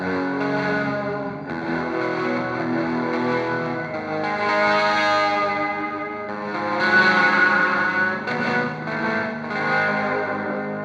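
Electric guitar run through an experimental Old Blood Noise effects pedal, giving a dense, distorted, warbling wash with chorus-like swirl and echo, swelling and shifting continuously, loud and alone.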